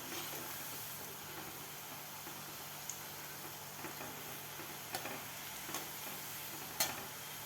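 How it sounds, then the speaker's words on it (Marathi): Kundule, spiced fried snacks, deep-fry in oil on a medium flame with a steady, faint hiss and crackle, broken by a few small sharp pops near the end and no talking. "असा गोल्डन कलर होईपर्यंत आपल्याला हे कुंडुळे तळून घ्यायचे आहेत"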